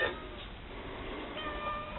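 An injured, limping cat meows softly at a homestead. Faint, far-off cries come through a steady background hiss, with no clear talk in between.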